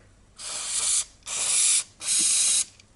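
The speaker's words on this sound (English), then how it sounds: "spray some penetrating oil on these 3 bolts" Three hissing bursts from an aerosol can of penetrating oil sprayed onto rear brake caliper bolts of a Mazda MX-5 Miata, each lasting well over half a second, close and fairly loud, separated by short pauses.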